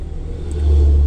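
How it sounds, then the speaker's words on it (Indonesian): Heavy trucks and cars rolling along a busy road near Ngawi, a low engine rumble swelling louder as a vehicle passes close by. "Truk besar-besar nih, kendaraan pribadi sudah melintas."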